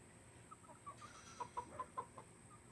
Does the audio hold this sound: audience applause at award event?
no